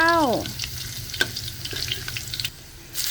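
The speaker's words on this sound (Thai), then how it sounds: "ตั้งน้ำมันห่อแล้วก็ใส่หอมขาวลงไปเจียวเลยเจ้า" Garlic goes into hot oil for a rustic stir-fry of termite mushrooms and pork, setting off a close, crackling sizzle with small pops and bubbling after a brief gliding tone at the start.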